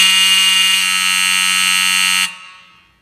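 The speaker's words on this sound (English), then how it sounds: "Very loud alarm" A fire alarm on a home mancave test system blares a loud, close, continuous buzzing tone for about two seconds, then cuts off abruptly, leaving a brief fading ring.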